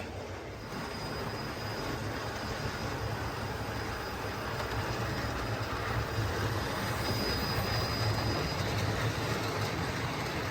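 A railway locomotive and tender rolling along, a steady broadband rumble with low-frequency drive and faint high squeal, constant and fairly close for the whole stretch with no talking.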